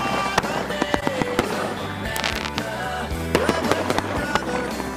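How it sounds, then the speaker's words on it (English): A fireworks display outside a fireworks superstore during Independence Day celebrations, with sharp crackling bangs and pops going off in quick irregular bursts alongside rising whistles, loud and close, with a faint voice underneath. "We've got our very own display live from the Phantom Fireworks Superstore."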